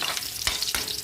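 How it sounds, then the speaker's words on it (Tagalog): Potatoes frying in a pan give a steady close sizzle, broken by two brief stirring scrapes. "Tapos yung patatas, ito din. Iprituhin ko rin siya."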